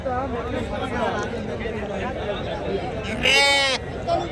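At the Saturday sheep market in Angallu, one loud, close sheep bleat rises near the end over continuous crowd chatter and people talking.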